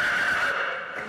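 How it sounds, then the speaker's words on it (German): A horse in a veterinary clinic stable lets out a single loud, close neigh lasting about a second, with no other sound around it. "hier im Stall haben wir insgesamt 21 Pferde untergebracht"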